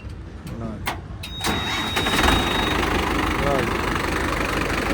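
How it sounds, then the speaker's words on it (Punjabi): A Massey Ferguson tractor engine cranks and catches, then settles into a steady, loud diesel idle nearby as people talk over it. "ਮਾੜਾ ਸਟਾਰਟ ਕਰੀ ਬਾਈ ਟਰੈਕਟਰ"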